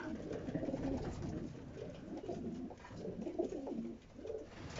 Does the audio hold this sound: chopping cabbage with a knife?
no